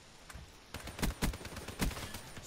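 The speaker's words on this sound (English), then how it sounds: "Sniper! Heads down!" Sniper gunfire in the video game Man of War: several loud, sharp shots crack out at irregular intervals, with a few heavier blasts close together in the middle.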